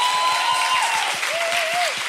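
Live comedy-show audience in Chicago breaks into applause, a steady wash of clapping heard alongside a few whistles or whoops, loud and close.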